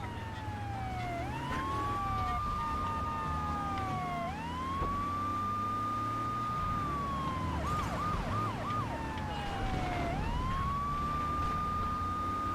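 A police car siren wails in the video game GTA III, sweeping up and down in long rising and falling glides with a brief rapid yelp burst, loud and continuous over low engine and traffic rumble.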